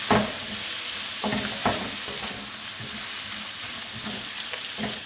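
Vegetables, pineapple and nuts fry in oil with a steady loud sizzle and hiss, broken by scraping stirs that come every second or so, close up with no voices.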